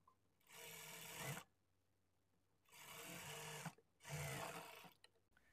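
A sewing machine stitches the belt of a blouse lining in three close bursts of steady whirring, separated by short pauses, with no talking.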